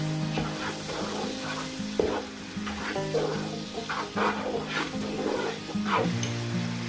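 One and a half cups of boiled chickpeas get stirred into a sizzling spice masala for chana pulao, with a lively frying crackle and repeated scraping stirs throughout, close and moderately loud.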